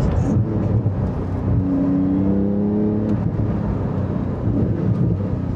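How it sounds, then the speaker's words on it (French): Inside a car in Bleu Riviera trim, the turbocharged engine drones steadily while the car is driven, with a rising whir that swells midway and then settles. The sound stays close and continuous, and nobody talks. "On entend vachement bien les turbos."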